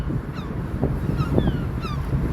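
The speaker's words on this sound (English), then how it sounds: "And these seagulls may take it down." Several seagull cries at Liverpool's Albert Dock sounding in short bursts over strong wind rumbling against the microphone.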